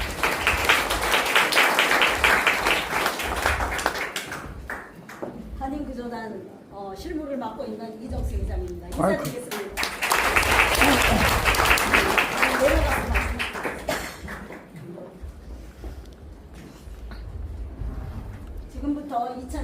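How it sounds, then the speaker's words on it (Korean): Audience applause welcoming a speaker at a Korean rescue-group event, loud broadband clapping at the start and again midway, with a speaker talking in between. "큰 박수로 맞이해 주시기 바랍니다."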